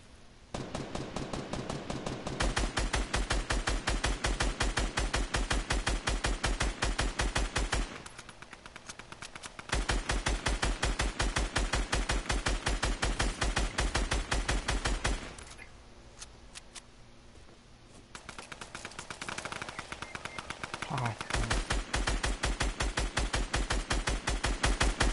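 Rapid automatic gunfire from an online shooter video game, long loud bursts of machine-gun-style shots in sustained rhythm, broken by brief pauses, with no talking over it.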